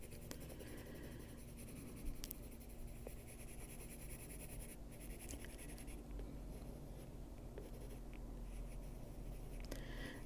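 Colored pencil strokes scratch softly and continuously across paper, close and quiet, with small variations in pressure and rhythm.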